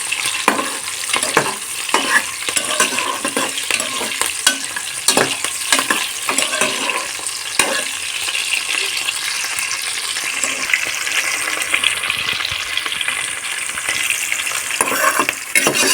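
Chopped onions and green chillies frying in a pressure cooker, a loud continuous sizzle with repeated scraping stirs and clicks of a spoon close by.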